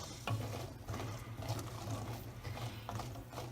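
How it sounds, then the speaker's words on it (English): Cranberries cooking into a gingered sauce give off quiet, irregular pops and soft crackles over a low simmering hum, faint and close in a home kitchen. "And you might hear the sound of popping berries."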